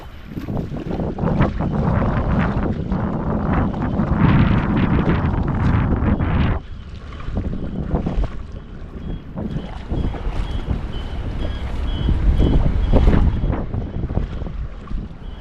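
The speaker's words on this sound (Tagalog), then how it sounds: "Grabe, lakas ng alon." Strong waves wash and crash along the shore at Maitang in rough, windy weather, a loud continuous roar with heavy wind buffeting the microphone and surges swelling throughout.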